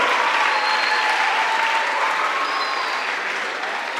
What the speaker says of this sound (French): Et nous allons l'accueillir avec nos applaudissements très forts.